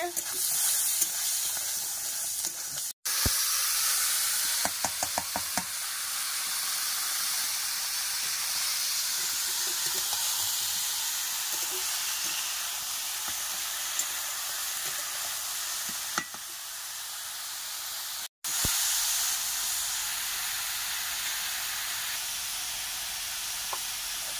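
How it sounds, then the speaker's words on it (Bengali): Onion and green chilli fry in hot oil with a steady, loud sizzle and hiss that barely changes, broken by two brief cut-offs, with no talk over it. "এই বাবা পেঁয়াজ আর কাঁচা লঙ্কা দিয়ে দিলাম তেলের মধ্যে"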